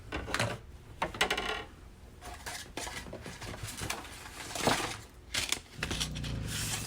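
Metal cutting dies rattle and clink as they are taken out and handled for a Big Shot die-cutting machine, giving irregular close metallic jangles and knocks with no talking.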